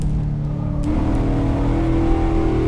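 A Spec P71 car in the Assetto Corsa racing game, its engine droning steadily as the automatic gearbox shifts, with the revs changing pitch midway, loud and continuous, with no talking.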